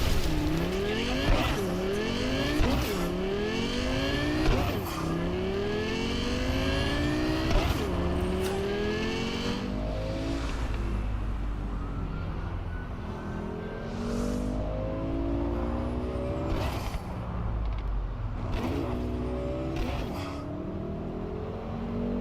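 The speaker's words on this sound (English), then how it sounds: "I always like driving this Cyberpunk" A car driven in the video game Cyberpunk 2077 with its engine revving up and down through repeated gear shifts, tires squealing at moments, loud and continuous with no talk.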